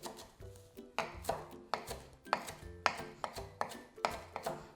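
Knife chopping cilantro and parsley on a cutting board, a quick run of crisp, fairly regular strikes heard up close and alone.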